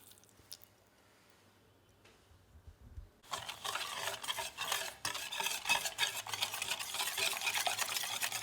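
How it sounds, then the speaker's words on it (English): Cornstarch being stirred into almond milk with a utensil, starting with a quiet stretch, then brisk rhythmic scraping and clinking against the bowl that carries on steadily to the end. "Mix cornstarch with almond milk until combined"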